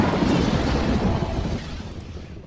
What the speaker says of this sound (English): I'm not sure what to do with the lightning storm.